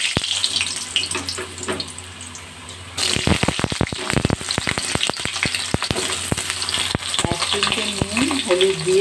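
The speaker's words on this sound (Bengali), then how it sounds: "এবার ওই তেলেই একে একে আমি আলুগুলো ছেড়ে দিলাম।" Potato pieces dropped one by one into hot oil left from frying lentil fritters, with a steady close sizzle, stirring clatter and a burst of frying noise after about three seconds, plus a running tap in the background.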